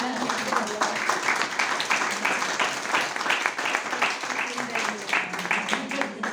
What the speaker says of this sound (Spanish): O cual lle pido un aplauso para ela.